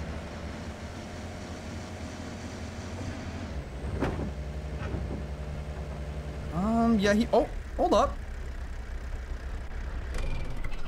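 Vehicle engine idling and rumbling in the hunting game Way of the Hunter, set in Africa, steady low drone under a man's brief speech, with a sharp knock and animal-like calls near the end.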